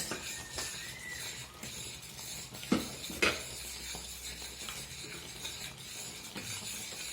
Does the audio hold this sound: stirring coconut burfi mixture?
yes